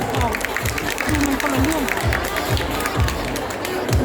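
Sustained applause from an audience honoring contestants at a Doraemon singing and dancing contest, a dense even patter of many hands with a few cheers and a steady low rhythmic thump beneath.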